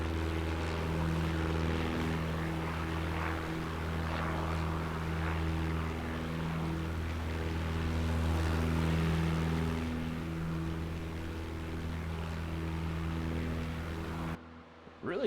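A PA-38 Tomahawk single-engine propeller trainer drones steadily in flight in Microsoft Flight Simulator, a constant buzzing engine hum with strong tonal harmonics, moderately quiet, no talk, cutting off abruptly at the end.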